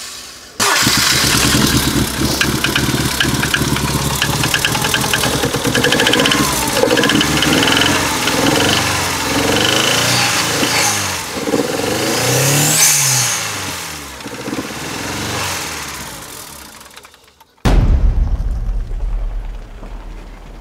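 An MG ZR 2.0 turbo car engine cranks, starts and runs loudly close up, its revs rising and falling for about seventeen seconds. It cuts out abruptly, and a short, lower rumble follows.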